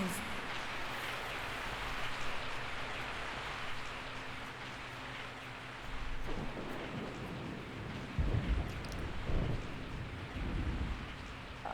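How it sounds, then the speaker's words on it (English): Steady rain hisses in Resident Evil 3, with low rumbling thunder swelling in the second half and voices speaking over the downpour. "I woke up to the sound of falling rain"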